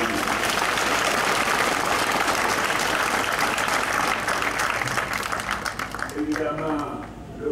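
Dense, loud applause from a large audience of farmers at an outdoor presidential speech in Côte d'Ivoire, sustained for several seconds before thinning out, with a voice starting up near the end.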